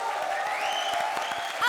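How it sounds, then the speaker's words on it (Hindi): Studio audience applauding on a Hindi comedy show set, a steady wash of clapping over its short length, with a brief voice on top near the end. "तो इसी दादी के लिए जोरदार तालियां।"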